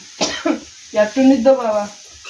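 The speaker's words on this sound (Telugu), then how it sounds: "దగ్గు దగ్గు వస్తుందా" A person coughs close by in a kitchen where a spicy tamarind-leaf and green chilli curry is being made, short harsh bursts followed by voiced throat-clearing sounds.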